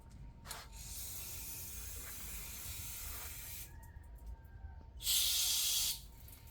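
Carburetor cleaner hisses from an aerosol can in several bursts into the orifices of a Kohler 6.5 hp engine on a wood splitter, with a louder, harsher final spray near the end.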